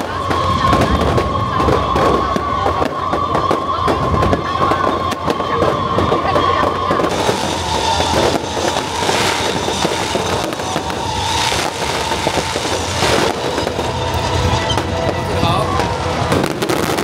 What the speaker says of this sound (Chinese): 晚上360秒的烟火秀，更是将活动带到最高潮。